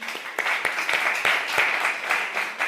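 An audience applauds at a church gathering, sustained dense clapping with sharp individual claps standing out, loud and close, continuing without a break.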